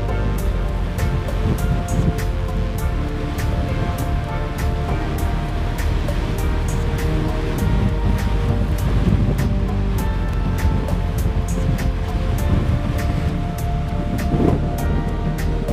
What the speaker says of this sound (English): Look at the ocean and the colors of the waves.